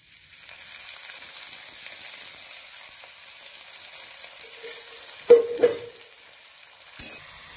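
Sliced onion dry-roasting in a black iron pan with a couple of spoons of oil added, giving a steady broadband sizzle throughout, broken by two sharp clanks of a utensil near the end.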